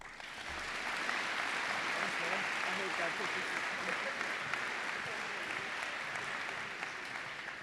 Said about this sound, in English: A round of applause for everyone and for Mr. Jacob Becker.